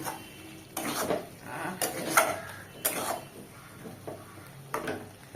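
Eggplant being pressed and stirred in a pan, a few distinct utensil scrapes and clatters against the pan spaced about a second apart, close and moderately loud with a low background.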